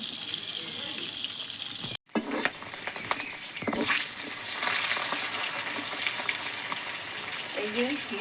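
Fish heads sizzle and crackle in hot oil in a wok, cooking for a Bengali muri ghonto: a steady, dense frying patter that runs close and fairly loud, broken by one brief dropout and a few louder spits.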